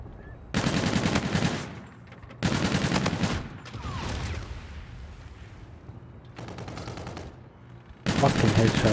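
Bursts of automatic gunfire in a Call of Duty: Infinite Warfare Search and Destroy match, loud and rapid, with several sustained volleys separated by quieter gaps and faint game sounds between.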